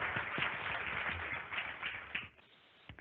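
Audience applause at a manufacturing sustainability conference session, a soft, fairly distant wash of clapping from a room of people that tapers off after about two seconds, leaving a few scattered claps.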